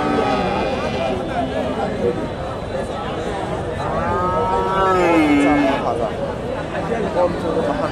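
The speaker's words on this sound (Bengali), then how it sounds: "এখানে এক জোড়া ভাইয়ের কাছে সুন্দর এক জোড়া ষাঁড় গরু দেখতেছি, ফ্রিজিয়ান ক্রস ব্রিডের" Friesian cross bull cattle at a busy livestock market, with a long moo rising out of a constant crowd babble and people talking nearby throughout.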